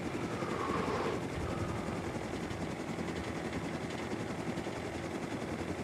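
Helicopter flying in the Rust video game, a lighter craft than the attack helicopter, with a steady loud rotor and engine drone running throughout and a brief swell near the start.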